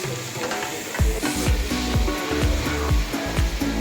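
Ground pork sizzles and fries steadily in a pan, with a run of rhythmic scraping stirs knocking against the metal throughout.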